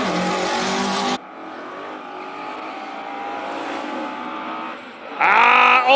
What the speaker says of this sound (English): All the way up, the classic 4-cylinder sound.